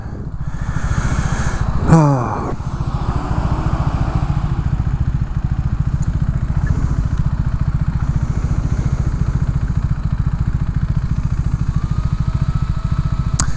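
A motorcycle rides along a road in Chicago, its engine holding a steady, close droning rumble throughout, with a brief sharp clatter near the start and no speech over it.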